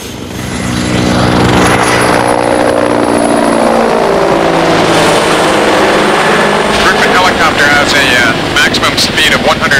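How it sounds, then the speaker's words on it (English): A helicopter with a four-blade rotor flies close by, its loud pulsing rotor thrum and turbine whine building in and holding steady, with a voice speaking over it. "the helicopter burns 700 pounds of fuel an hour"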